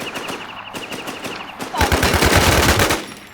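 Rapid automatic gunfire in a first-person shooter video game, a dense burst of loud repeated shots following fainter rhythmic firing, with no talk.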